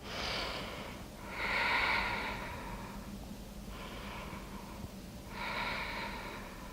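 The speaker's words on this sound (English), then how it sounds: "Take a few breaths here." Deep, slow breaths during a yoga stretch in a weighted sculpt-and-tone workout, three long airy inhale-exhale swells spaced a few seconds apart, close and moderately loud over faint background hum.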